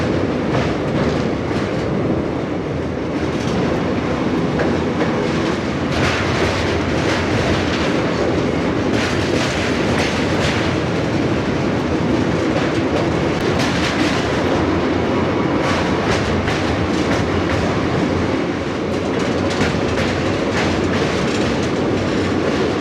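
A train rumbles steadily across a rail bridge near Kolaghat beside the NH-16 highway, running on the Santragachi–Digha line, with a continuous loud roar and rhythmic clatter of wheels throughout and no talking.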